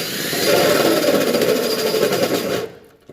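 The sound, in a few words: power drill running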